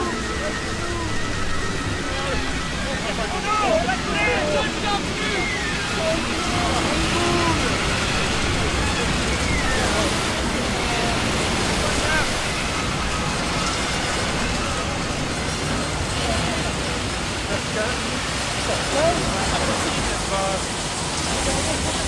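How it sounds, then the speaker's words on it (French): Roaring, continuous wash of storm waves at sea, loud and dense, with faint shouting voices mixed into the churning noise. "Les vagues sont trop fortes!"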